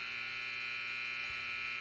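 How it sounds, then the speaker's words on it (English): End-of-quarter buzzer at a boys varsity high school basketball game, a steady, sustained electric buzz held for about two seconds without break. "The buzzer sounds."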